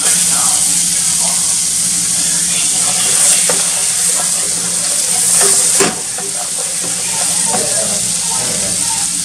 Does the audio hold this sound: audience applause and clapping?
no